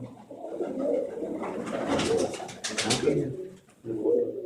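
Pigeons from a Barsal loft coo in soft, low, repeated throaty calls, close by, with a brief rustle and a short pause near the end.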